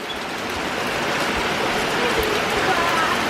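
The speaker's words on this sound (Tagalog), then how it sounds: "look at that rain!" Steady rain pours down in a dense, continuous hiss that stays loud and even throughout, with a voice speaking faintly beneath it.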